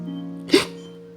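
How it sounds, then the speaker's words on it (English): A single sharp hiccup, one brief abrupt vocal catch, sits over a steady low hum and fades quickly. "each hiccup contraction is followed by a sudden closure of our vocal cords, which produces the distinctive hic sound"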